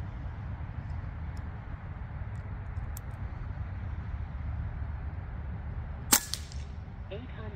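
A single sharp crack from an AEA HP Carbine .25 air rifle cuts through a steady low rumble near the end, followed by a brief faint rattle.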